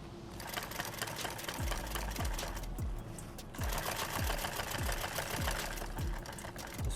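A sewing machine runs steadily while stitching a modular chest rig, a dense fast mechanical whir with regular knocking beats, close and continuous with a short dip midway.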